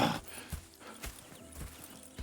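Horse hooves clip-clop in a slow, regular walking rhythm, with soft neighing mixed in, from the Red Dead Redemption 2 video game; fairly quiet and close, with no talking.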